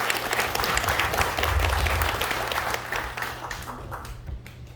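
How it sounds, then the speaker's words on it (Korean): An audience at a Dongguk University forum applauds in a dense, sustained burst of clapping that gradually thins and fades toward the end. "여러분 큰 박수 맞이하시기 바라겠습니다"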